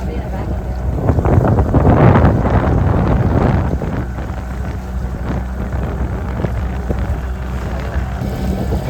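A boat ride across the water toward an island on Sathuperi lake in Vellore, with steady engine and water rush plus wind buffeting the microphone, swelling loudest early on and then settling into a continuous drone.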